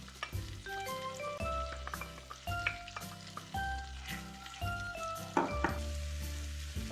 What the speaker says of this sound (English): I'm going to add the ginger garlic paste to it now.